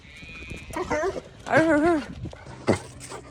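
A dog gives a few yelping, whining barks close by, rising and falling in pitch, with brief quiet gaps between them.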